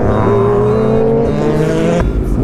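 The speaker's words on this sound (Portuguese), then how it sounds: "O cara de carro preto saiu cantando pneu." A black car speeds off on a street with loud squealing tires and a revving engine, the shrill tire squeal sustained close by before cutting off abruptly near the end.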